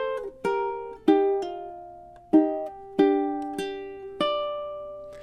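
Solo ukulele picks out the next phrase of Scarborough Fair, about eight plucked notes at a relaxed pace with some overlapping ring, played close up with no voices.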